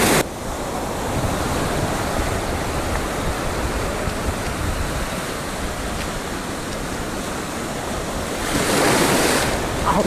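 Sea waves wash continuously against the rocky coast of the Homigot peninsula trail, a dense steady roar with a surge of louder surf near the end, heard alone without talk.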